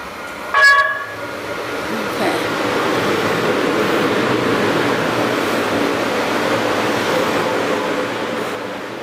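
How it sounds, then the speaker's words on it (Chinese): A train approaches, opening with a short, bright horn toot, then swelling into a sustained, loud rumbling roar that holds for several seconds. "现在火车来了"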